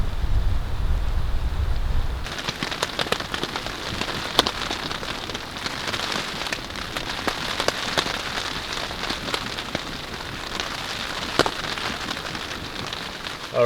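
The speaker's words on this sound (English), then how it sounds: "It is raining. So with the cold wind, it was turning to ice." Steady rain and gusting cold wind patter and rush against a hot tent pitched for winter camping in snow, a dense continuous hiss with scattered sharper drops close by, no voices.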